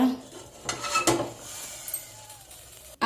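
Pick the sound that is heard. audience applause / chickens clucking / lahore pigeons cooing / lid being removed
lid being removed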